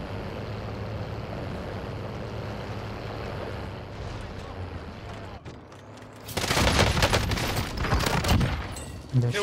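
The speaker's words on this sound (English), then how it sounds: "I'm shooting at the other one." Gunfire in the video game Warzone: an engine-like rumble first, then a loud burst of rapid automatic shots in the second half with a sharp final crack, and a player talking over it.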